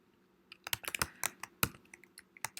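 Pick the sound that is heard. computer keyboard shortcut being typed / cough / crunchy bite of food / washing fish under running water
computer keyboard shortcut being typed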